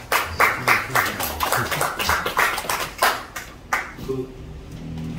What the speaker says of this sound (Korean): 임덕규 의원님 다시 한번 박수 부탁드리겠습니다